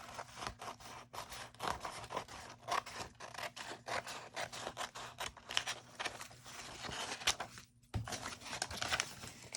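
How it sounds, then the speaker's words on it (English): Scissors snip through paper while making masterboard decoupage tags, a close, quiet series of irregular crisp cuts and rustles with brief pauses. "Let me just take the scissors and cut this off."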